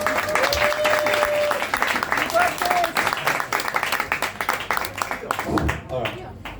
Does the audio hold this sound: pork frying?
no